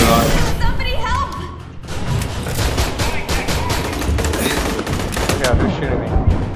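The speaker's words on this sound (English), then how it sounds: "Oh god, they're shooting me." Dense, loud gunfire rattles almost nonstop in the Aliens: Colonial Marines co-op video game, with rapid bursts and thuds layered together and voices mixed underneath.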